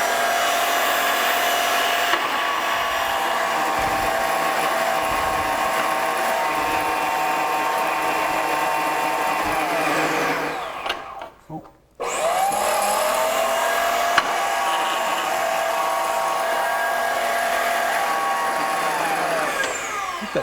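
A band saw cutting metal, a loud steady whining hum with a shifting tone as the blade works through the stock, briefly dropping out and dipping near the middle before resuming at full strength.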